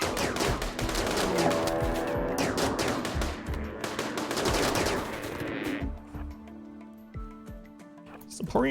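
Repeated rapid gunfire in the video game RimWorld, rattling bursts that run for several seconds under ongoing talk, then stop, leaving quiet game tones.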